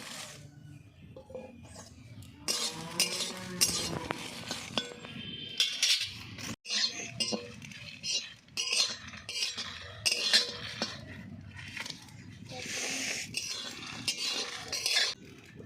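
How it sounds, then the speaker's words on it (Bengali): Chillies fry in a pan with a spatula scraping and clinking against the metal in irregular strokes over a soft sizzle, moderately close and fairly quiet. "লঙ্কাগুলো ভেজে নেব"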